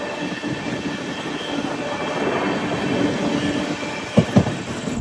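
Passenger train rolling along on a long-distance journey, a steady close rumble of the carriage with faint rail clatter and a couple of sharp knocks near the end, no talk.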